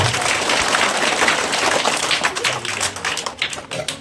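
Applause rises from an assembled crowd welcoming teachers at a Class 8 school farewell program, a dense continuous patter of many hands clapping that stays loud throughout, with a faint murmur of voices.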